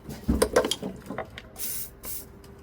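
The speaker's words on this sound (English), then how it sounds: "I'm gonna hit this with some lube." Aerosol lubricant sprayed onto the brake lines of a Toyota Solara, two short hissing bursts following some handling clatter and faint noises nearby.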